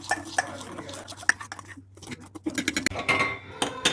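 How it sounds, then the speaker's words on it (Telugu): A spoon stirs raspberry jelly crystals mix in a pot, producing close, irregular scraping and clinking against the metal in quick bursts with short pauses. "చాలా మంచిగా మిక్స్ చేయాలంతా."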